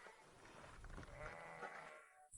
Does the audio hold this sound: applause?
no